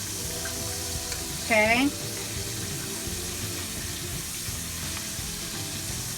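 Country fried steak sizzles steadily in hot grease after being flipped, a constant frying hiss filling the whole clip while a voice speaks briefly.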